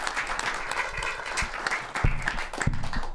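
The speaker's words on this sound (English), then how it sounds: "Round of applause for yourselves for joining us here tonight, ladies and gentlemen." A studio audience claps steadily throughout, with a dense, continuous patter of applause and a few sharper, louder claps near the end.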